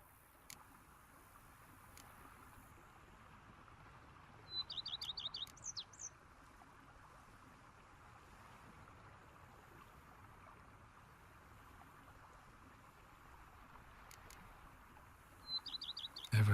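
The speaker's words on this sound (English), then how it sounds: "Bees buzzing, birds chirping." Birds in a peaceful outdoor scene in The Witcher 3: Blood and Wine, with two short bursts of bright chirping, one near the middle and one at the end, over a quiet, steady ambient background.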